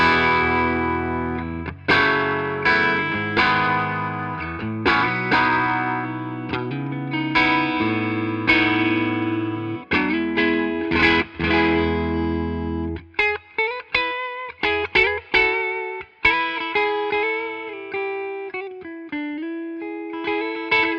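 Electric guitar played through two amplifiers coupled together, distorted chords and ringing sustained notes with effects, loud and close, a run of strummed hits followed by picked single notes, no talk.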